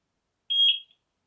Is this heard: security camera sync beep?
yes